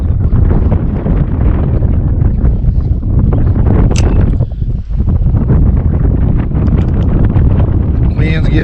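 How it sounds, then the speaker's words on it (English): Strong wind buffets the microphone on a boat out on Lake Monticello during crappie and white perch fishing, a loud, steady roar with a brief lull midway. "Wind's getting up."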